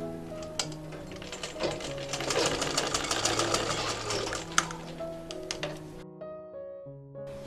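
Sewing machine stitching fabric for a child's fatua, a fast close mechanical whirring rattle running several seconds before stopping, followed by a brief restart.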